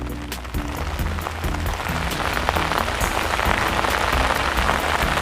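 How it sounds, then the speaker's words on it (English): Rain pours steadily onto a garden of square-foot beds with peppers and strawberries, a dense, continuous hiss of drops on leaves and soil, close and loud throughout with no voices. "I thought it was just threatening to rain, and now I'm soaked."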